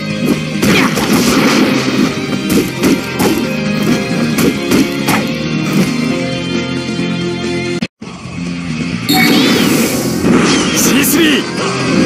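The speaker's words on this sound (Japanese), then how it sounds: "大爆発だぜ。" Loud explosions in Naruto Online crash and boom over a dense, busy soundtrack, with a brief cut to silence before the blasts resume.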